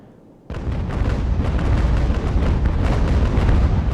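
Broadside of naval cannon fire bombarding a fort in Ultimate Admiral: Age of Sail, a sudden loud boom followed by sustained rolling, overlapping blasts and rumble that continue without pause.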